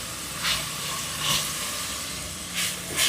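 Tomato pieces, mint and coriander powder frying in a pot for a wedding-style veg pulao, giving a soft, steady hiss with a few louder sizzling surges.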